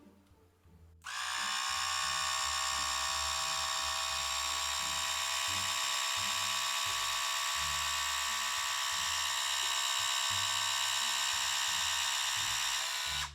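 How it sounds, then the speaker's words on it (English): A split-end hair trimmer switches on and runs as a steady high-pitched electric buzz, close and continuous while it cuts tiny ends off a section of hair. "it is just taking off the split ends"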